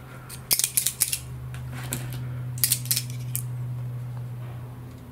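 Parts for an F3F/F3B glider fuselage being cut with scissors, two bursts of quick crisp snips up close over a steady low hum, with quiet pauses between them.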